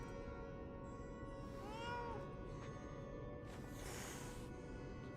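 A cat in the video game Lies of P gives a single clear meow, then a quieter second call, heard close over a faint steady game ambience.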